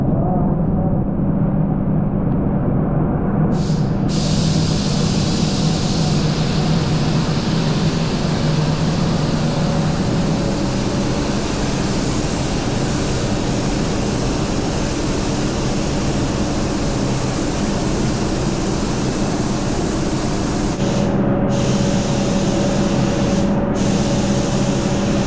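A small sprayer blows a steady, hissing jet of epoxy onto a tonneau cover. The broad noise carries on loud and unbroken, with a few brief cuts and a low background hum.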